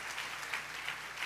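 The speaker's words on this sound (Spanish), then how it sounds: "Denle ese aplauso a la gloria de Dios." Church congregation applauding during a Spanish-language sermon, a steady wash of many hands clapping throughout, fairly close and even in loudness with no talk over it.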